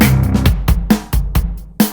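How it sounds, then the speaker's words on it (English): A punchy programmed drum beat from the FPC plugin in FL Studio plays a quick pattern of kicks, snares and hi-hats, crisp and upfront, looping in steady rhythm. "if you really, really want drums and you just can't wait to get that rhythm going"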